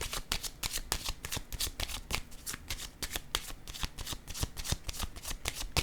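Tarot cards being shuffled by hand in a quick, steady riffle of crisp flicks and slaps, close up and continuous with no talking.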